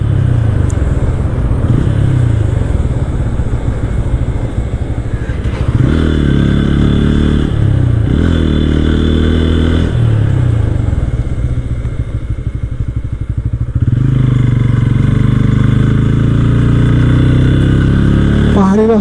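A motorcycle ridden on a winding hill road between Cox's Bazar and Kaptai, its loud, close engine revving up and easing off through the bends as the pitch rises and falls.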